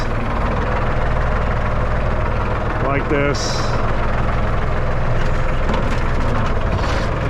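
A Ford 9N tractor engine runs steadily in first gear while covering potatoes in a field, a continuous low rumble throughout, with someone speaking briefly over it.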